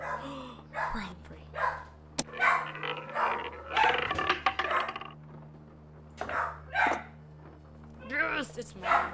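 A pet dog barks in a room in short, sharp bursts scattered among excited talk from a person playing the Nancy Drew game Legend of the Crystal Skull, with game music humming underneath.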